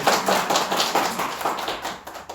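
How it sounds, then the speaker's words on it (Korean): A church congregation claps during Sunday worship, a quick series of loud, rhythmic hand claps in a steady beat that tapers off near the end. "찬양의 의미로 박수 한번 하도록 하겠습니다"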